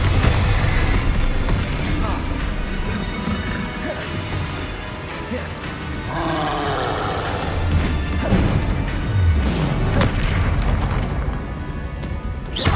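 Bombarda explosion spells going off in Hogwarts Legacy, loud crashing booms and smashes over continuous combat noise, with a voice calling out spell names.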